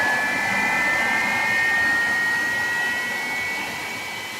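Boeing 767-300ER jet engines in flight in the X-Plane 12 simulator, a steady loud roar with a high whine running throughout, slowly easing off toward the end, no voices.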